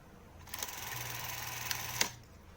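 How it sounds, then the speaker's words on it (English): A film camera runs its mechanism with the film button pressed, a faint steady whir and rattle for about a second and a half, punctuated by small clicks and ending in a sharper click as it stops, close up in a quiet room. "Listen for the click."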